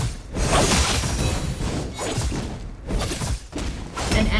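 Ancient One casting Ring of the Vishanti in Marvel Super War: a dense run of magical thuds, shattering crashes and swishes, loud and continuous over busy battle noise with brief dips.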